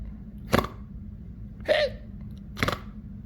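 A voice imitates hiccups during Peppa Pig toy play, three short separate hiccup sounds spaced about a second apart over a quiet background.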